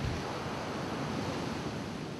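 Ocean waves surge high on a rainy winter day, heard as a dense, steady roar of surf and wind noise with no pauses, loud and close.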